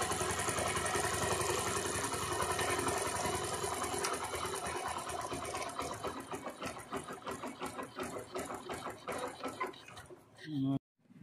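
A Bajaj Platina 100cc motorcycle engine idles close by with a fast, even ticking rhythm while the fuel-air mixture screw is adjusted. The idle loosens into uneven pulses, then the engine cuts out abruptly.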